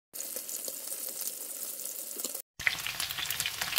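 Chicken pieces frying in a pan, a steady close sizzle that breaks off briefly and then returns louder and brighter, with no talking.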